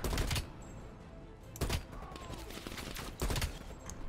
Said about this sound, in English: Don't mind me, I'm just shooting from far away